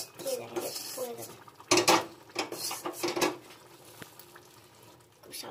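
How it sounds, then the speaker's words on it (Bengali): Khichuri being stirred in a cooking pot: a spoon scrapes and clatters against the metal in irregular strokes, with soft sizzling beneath and occasional louder knocks. "খুব সাবধানে নাড়াতে হবে।"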